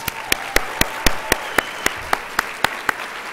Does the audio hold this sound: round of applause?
yes